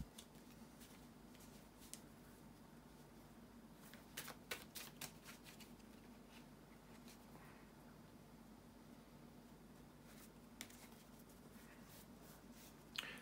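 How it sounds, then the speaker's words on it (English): Tarot cards being shuffled by hand, a soft run of papery riffles and slides with a few sharper snaps and taps, quiet and close over a steady low background hum. "bear with me a second, guys, to shuffle the tarot cards"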